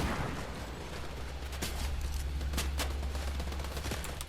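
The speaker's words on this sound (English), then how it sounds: "these guys open fire on us way too early" Gunfire in the video game Fortnite during a duos match, with several sharp shots cracking out over a steady low game rumble, irregular bursts spread through the clip at moderate distance.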